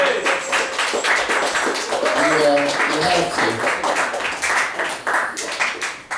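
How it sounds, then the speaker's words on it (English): A live audience at a raucous stage show claps and applauds, with steady dense clapping throughout and people talking and shouting over it. "Give a round of applause, ladies and gentlemen."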